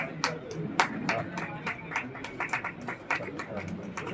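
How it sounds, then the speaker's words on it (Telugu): An audience claps after a song, a scattered run of hand claps close by and moderately loud, with a voice talking under the applause. "గట్టిగా చప్పట్లు కొట్టాలి."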